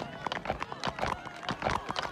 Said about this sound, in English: Peter brings his mentally challenged horse to compete in Quahog's annual horse race